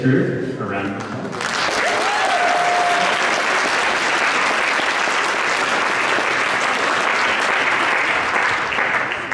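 Award ceremony audience applauding finalists at a student science fair, a dense, sustained wash of clapping from a large crowd that swells in after a brief opening voice and holds steady and loud throughout.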